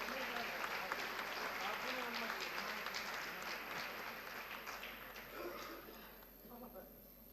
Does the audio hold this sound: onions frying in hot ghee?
no